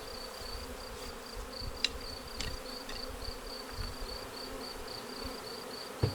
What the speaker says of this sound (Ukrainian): рій потихеньку заходить, бачите?